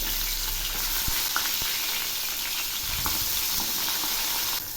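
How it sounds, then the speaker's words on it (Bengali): Hilsa fish head sizzles and crackles steadily in hot oil, a dense close frying hiss with a few soft clicks and spatters, continuing without pause until it stops abruptly at the end. "এক পাশ ভাজা হয়ে গেছে,"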